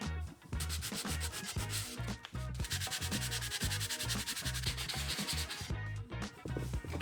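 Sandpaper rubs steadily back and forth over a birch wood panel, a loud, continuous gritty scraping with a quick rhythmic pulse from the strokes, heard close up with no talking.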